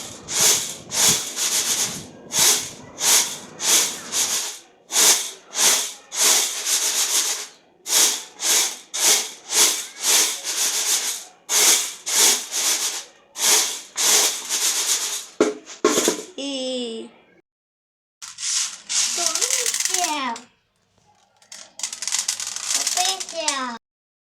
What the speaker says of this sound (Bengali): আমার এইখানে তো আর কুলা নেই, তাই জন্য আমি ছুরিতে করেই এগুলা ঝেড়ে নিতেছি।